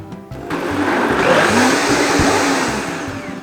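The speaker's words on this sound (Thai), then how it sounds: "วันนี้แม่จะปั่นด้วยเบสแบบเบสน้ำเปล่า ใส่น้ำไปประมาณนึง" A blender whirs steadily as it purées a fruit and vegetable smoothie with a plain water base, a loud continuous motor roar with churning that rises and holds throughout, no voices over it.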